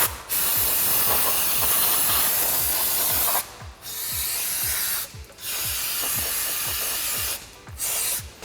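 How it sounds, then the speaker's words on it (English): Brake cleaner sprayed onto Toyota Tacoma brake parts, with loud close hissing aerosol bursts, three long sprays separated by short pauses. "break some brake clean, spray it."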